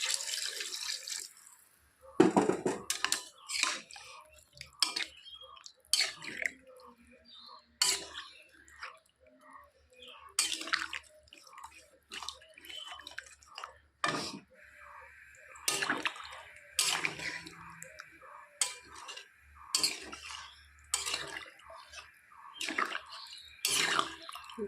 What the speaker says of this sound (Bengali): তো এখন আমি দিয়ে দেব ঝোল, সামান্য পরিমাণে দেব ঝোল,